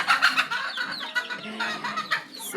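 A chicken clucks repeatedly while coming up in the morning to be fed, its short rhythmic clucks close and clear, along with a few higher calls from other birds on a farm with cattle.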